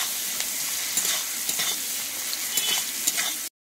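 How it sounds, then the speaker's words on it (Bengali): Chopped onions fry in hot oil in a pan, a continuous close sizzle with light scraping stirs and soft crackles, ending abruptly in silence. "আমি পেঁয়াজটা দিয়ে ভেজে নেব"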